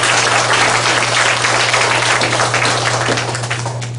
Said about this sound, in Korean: 우리 다 같이 박수로 영광을 받겠습니다.